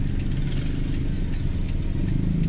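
Road traffic behind a market rumbles and idles nearby, a dense, steady drone of engines with faint clatter, continuous and fairly loud with no voices.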